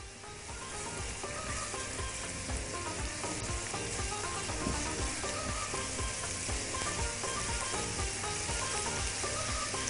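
Onions sizzle and fry steadily in a hot pan while being cooked for carrot mujaddara, a dense, even crackle that stays close and continuous throughout with no talking.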